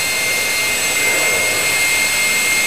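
An electric ducted fan spins up on a balancing bench, giving a loud, steady, high-pitched jet-like whine and rush of air that holds constant and close throughout.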